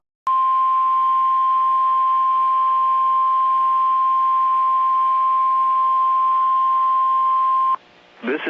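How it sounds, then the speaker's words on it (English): A weather radio warning system test tone from a National Weather Service office in Fort Worth sounds as a loud, steady single-pitch beep for about seven and a half seconds, then cuts off and a brief voice begins. "The preceding signal was a test of the weather radio warning system."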